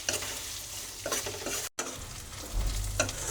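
Sliced onions sizzle and fry in a pan while a spoon stirs and scrapes through them, giving a steady close hiss broken by several scraping strokes, with no talking.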